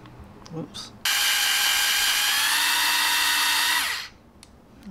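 A power drill with a steel bit whirs loudly at a steady high pitch for about three seconds, then spins down, with faint handling noises before and after.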